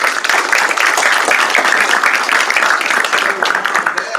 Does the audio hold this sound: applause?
yes